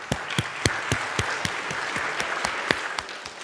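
Audience at a school awards ceremony claps for honored students, a fairly soft, steady applause with several distinct nearby claps ringing out in a loose, regular rhythm.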